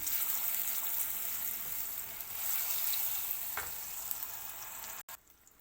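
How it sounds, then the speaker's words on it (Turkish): Margarine is stirred into melted chocolate in a pot, giving a steady soft sizzling, scraping churn that runs for several seconds before stopping abruptly. "Eridikten sonra içine margarinimi ilave edip karıştırıyorum."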